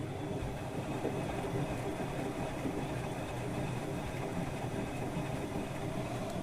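A Bosch dishwasher running a hot cleaning cycle with citric acid, baking soda and vinegar inside, giving a low, steady mechanical hum with a faint rumble and churning that holds evenly throughout.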